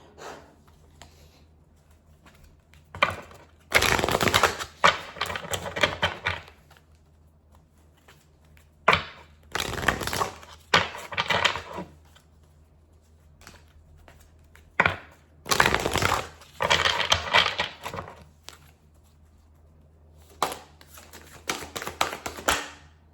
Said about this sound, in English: So I'm going to pull an oracle card